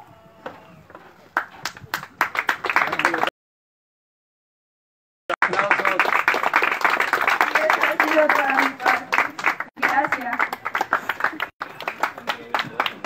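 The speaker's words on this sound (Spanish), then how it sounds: "un fuerte aplauso a todas estas personas que recibieron esta flor" Guests at a quinceañera clap for the people who received a rose, the applause coming in bursts around a brief silent gap, dense and fairly close, with talk mixed in.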